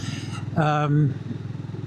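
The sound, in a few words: BSA Goldstar 650 single-cylinder motorcycle riding in top gear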